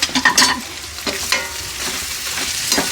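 Boiled goat intestines for gudala boti curry sizzle and fry in a pan, with intermittent stirring scrapes over a steady hiss, close and moderately loud.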